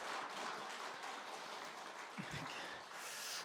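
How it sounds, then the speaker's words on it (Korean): A congregation applauds during a Friday prayer meeting in a church, a broad steady wash of clapping heard from a distance, faint and even, with a brief low thump midway. "박수 한번 드려주시죠."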